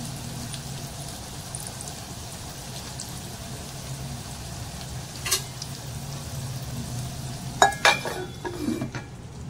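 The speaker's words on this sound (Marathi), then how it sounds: "आता ही कैरी पण आहे ना मी जरा थोडीशी शिजवून घेते" Raw mango sizzles softly and steadily in a hot pan, with a few sharp clinks of a utensil against the pan near the end.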